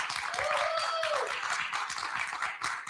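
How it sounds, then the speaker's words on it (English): Playhouse audience applauding its icons: dense, sustained clapping from a crowd, with a whooping cheer rising above it near the start. "let's have another round of applause for our icons."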